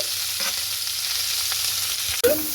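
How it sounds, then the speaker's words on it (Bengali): Cauliflower with grated carrot is stir-fried in a pan, giving a continuous close sizzle with a few soft scrapes, then a sharp clatter near the end, with no voices. "গাজরটাকে দিয়ে একটু ভালো মতো করে আমি নাড়াচাড়া করে নেব।"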